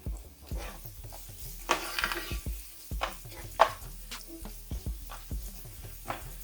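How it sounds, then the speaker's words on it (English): Onions cooking down in a skillet, stirred with a utensil: a quiet background sizzle broken by frequent irregular scrapes and taps against the pan, close by and with no talking. "So the onions are starting to cook down. Just stir them."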